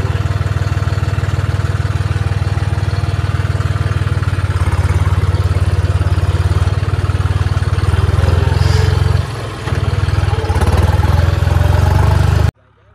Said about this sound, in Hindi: जमुना पे पहुंच गए भाई और आज अपने ट्रैक्टर है मोस्टर टैंक है